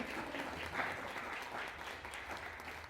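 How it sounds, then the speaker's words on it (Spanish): A church congregation claps in sustained applause during a service, dense and even, at moderate distance, with no clear speech. "Denle un fuerte aplauso a Dios"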